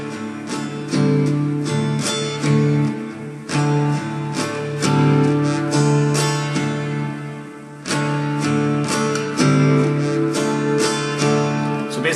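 An acoustic guitar plays the full eight-beat strumming pattern for a Hindi song, with a hammer-on on the fourth beat. Continuous, close strummed chords with steady rhythmic accents run alone for over ten seconds.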